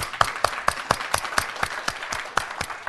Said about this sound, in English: a warm round of applause for Anselm